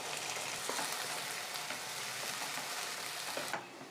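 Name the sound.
sautéing coriander, coconut, ginger-garlic paste with onions in kadai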